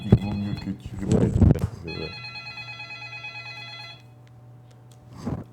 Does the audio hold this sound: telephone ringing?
yes